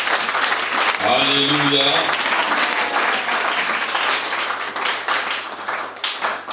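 A church congregation at a baptism service applauds in a dense, sustained wave of clapping that runs through the whole stretch, with a brief sung or shouted voice rising over it near the start.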